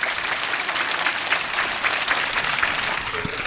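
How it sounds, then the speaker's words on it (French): Steady, dense applause from an audience at a Senegalese school colour-day ceremony, continuous and fairly loud throughout with no break. "On applaudit très très fort"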